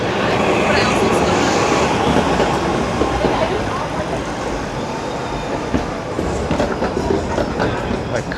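A Toronto streetcar rumbles past on its rails at night on a busy city street, a steady loud rolling roar with faint clatter and light squeal throughout, with street noise mixed in.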